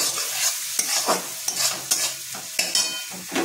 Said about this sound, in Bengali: এবার আমি রসুন আর আদা দিয়ে ভালো করে মিক্স করে নেব